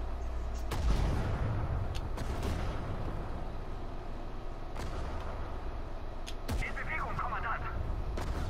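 Scattered gunshots from an online shooter game ring out in short bursts, a few sharp cracks standing out over a steady background of game noise while players talk throughout.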